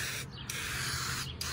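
Spray can painting tint onto a car window, two short sharp hissing bursts of aerosol spray close up, separated by a pause, with a faint low hum underneath.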